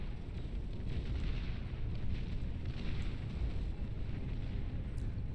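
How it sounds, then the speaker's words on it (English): Flamethrower turret roasting a group of medium tanks in the strategy game Beyond All Reason, a steady, dense roaring rumble with a crackling burn that holds at a constant level throughout. "Medium tanks now suffering at the hands of a flamethrower turret."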